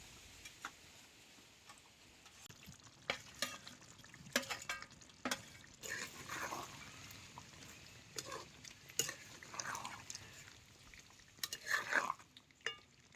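Chicken masala with potatoes frying in a pan while a spoon stirs it, giving repeated scraping and clinking strokes over a soft sizzle, moderately loud and close.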